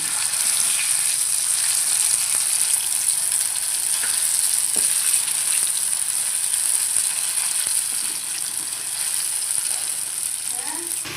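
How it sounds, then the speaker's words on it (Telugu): Pieces frying in hot oil in a pan for a vegetarian liver-style curry, a continuous loud bubbling sizzle with occasional clicks and stirring, steady throughout. "ఈలోపు మన పీసెస్ అనేటివి ఫ్రై అవుతూ ఉన్నాయి"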